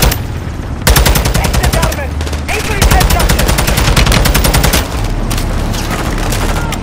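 Call of Duty: Modern Warfare 2 gunfire: loud, dense bursts of rapid automatic fire broken by short pauses, with a shouted voice briefly over the shooting.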